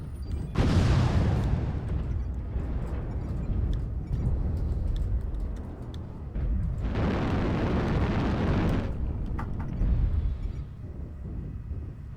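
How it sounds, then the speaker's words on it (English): An artillery strike in a video game pounds the area with heavy, rumbling explosions, long rolling booms in two sustained waves with scattered crackling debris between them, loud and close with no talking. "Artillery strike activated."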